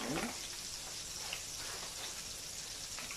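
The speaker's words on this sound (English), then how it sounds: "Now the garlic and the butter infusing nicely" Garlic and butter sizzle in a pan over high heat, a faint, steady crackling hiss with small pops throughout.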